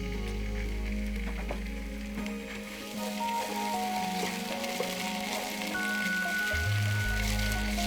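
Ginger garlic paste sizzling in a hot pan while cooking mutton leg soup, a steady, close crackling fry that holds continuously throughout.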